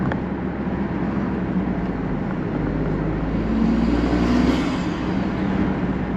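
A Toyota GR Corolla engine fitted with a K&N intake, heard from inside the car while driving: a steady, loud, close drone with heavy low rumble that climbs briefly in pitch near the end, with no talking.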